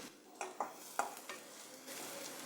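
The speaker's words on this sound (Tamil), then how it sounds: "வெங்காயம் வந்து நல்லா வதங்கணும்." Onions frying and being stirred in a pan for a Tamil omavalli iral varuval dish, a soft steady sizzle broken by a few sharp scrapes of the spoon, close and moderately quiet with no talk.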